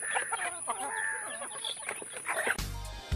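Chickens cluck and call steadily while being fed, a busy layered flock sound, ending in a short burst of louder broadband noise near the close.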